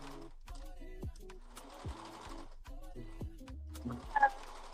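A serger sewing machine with its cutting knife engaged stitches around the edges of reusable wet bags in short whirring bursts separated by brief stops, close and fairly quiet.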